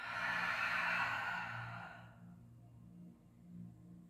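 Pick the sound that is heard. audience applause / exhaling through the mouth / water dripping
exhaling through the mouth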